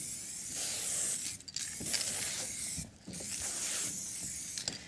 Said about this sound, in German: Ich bin auch noch Anfänger mit dem Sprayen.